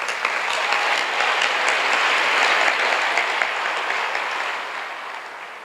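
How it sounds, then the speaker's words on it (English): An audience gives sustained applause at a talk, a dense even wash of clapping that holds steady and then begins to taper off toward the end. "So a round of applause."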